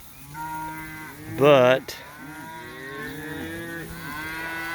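Cattle on pasture mooing loudly and repeatedly, long harmonic calls overlapping from several animals at varying distances, with one near, strained bellow standing out; a brief spoken word is heard.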